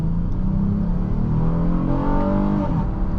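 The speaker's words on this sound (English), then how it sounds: "Look how good that engine sounds." The engine of a 2024 Honda Odyssey Touring minivan rumbles from inside the cabin as it accelerates, the pitch climbing smoothly and steadily with the revs.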